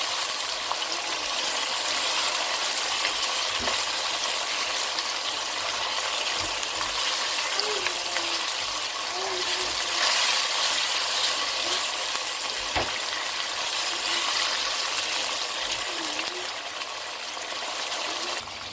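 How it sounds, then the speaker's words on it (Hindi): Masala spices fry in oil for a mutton handi, a continuous loud sizzle with occasional stirring scrapes, steady for the whole stretch with no talk. "ये देखिए मसाले की अच्छी तरह से भुनाई हो गई है, ऑयल जो है अच्छा खासा साइडों पे आ गया है।"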